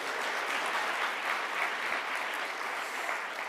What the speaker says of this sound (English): Because Whitney deserves an applause too